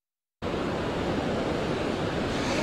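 Ocean surf from tropical long-period swells pounds the Jersey Shore, a loud continuous roar of breaking waves that starts abruptly after a brief silence and holds steady without talk.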